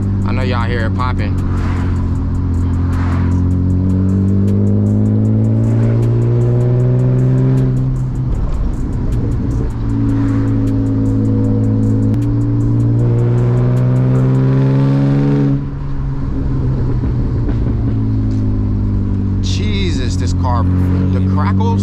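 A manual BMW E36 driving through hills, its engine droning loud and close through shifting revs, with exhaust crackles and pops mixed in and a voice talking over it.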